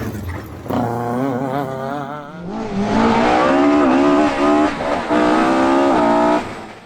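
A 2-litre Vauxhall Astra rally car with a misfiring engine tears along a stage at Aghadowey, its engine revving hard through rising gear changes and tyres squealing, loud and close as it passes.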